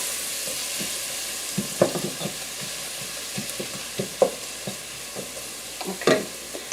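Kielbasa and cabbage frying in a pan, a steady low sizzle broken by a few louder scrapes and clatters from stirring, close up with no talking.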